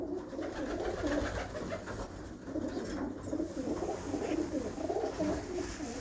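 Pigeons cooing softly in a breeder's loft, a low, continuous murmur of overlapping coos with faint background noise.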